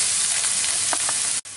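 Green beans with chorizo sautéing in a pan, a steady close sizzle and hiss of frying with faint stirring sounds, no talking.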